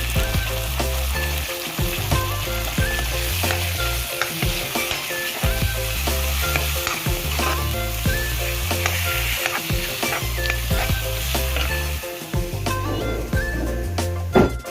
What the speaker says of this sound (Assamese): ইয়াত মই মগজখিনি ফ্ৰাই কৰি আছোঁ।